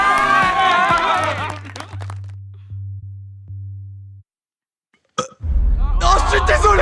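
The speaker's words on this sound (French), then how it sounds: "c'était quoi ce rot sérieux?" A loud, low, drawn-out burp from a man trying to set a record for the biggest burp. It rumbles steadily for a couple of seconds between bursts of lively speech, music and crowd noise.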